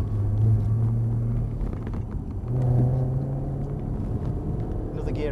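A Jaguar F-Type sports car is driven through a cone course, and the engine rumbles steadily as it shifts gear. The pitch drops midway as a new gear comes in, and the drone sits close beneath a steady cabin rumble.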